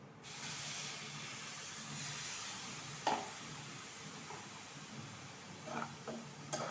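Milk poured into a hot pan of semolina sweet gives a steady soft hiss that runs throughout, with a few faint clinks and scrapes of a utensil near the end.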